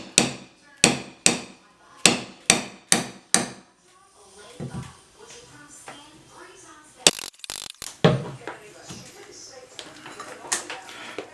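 A hammer strikes a crowbar again and again to pry bathroom tile moulding off a wall, eight sharp evenly spaced blows at close range. Scraping and creaking follow, and a few more hits come later under some talk.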